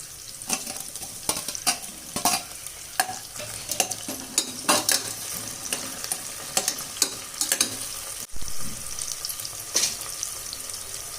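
Cut tomato tossed into a pan of frying onions for tomato bath, a spatula scraping and stirring in quick repeated strokes over a continuous sizzle, close up, with no talking.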